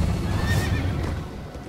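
A video game horse whinnies loudly over a rumbling background of hoofbeats and motion, the neigh rising briefly then fading.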